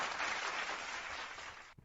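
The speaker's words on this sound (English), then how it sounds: "big round of applause to the Miami Heat" Applause for the Miami Heat from an NBA Finals audience, a steady dense wash of clapping that holds for almost two seconds and then cuts off abruptly.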